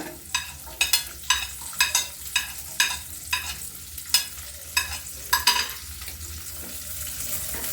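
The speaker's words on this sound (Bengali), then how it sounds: "ভাজতে গেল পেঁয়াজ" Onion petals frying in a pan for chilli paneer, stirred with a spatula: a sizzling bed under about a dozen regular, fairly loud scraping strokes against the pan, close up and without speech.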